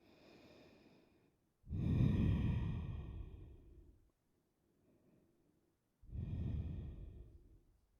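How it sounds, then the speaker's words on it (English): Deep, slow breathing during a yoga twist stretch: a soft inhale, then two long, audible exhales spaced a few seconds apart, close and quiet with silence between. "Take some deep breaths here."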